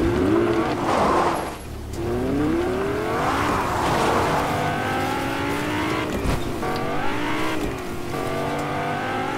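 A car driven in the video game Fortnite, its engine revving up and down in steady sweeps, with tire squeals and skids, loud and close, with no talking.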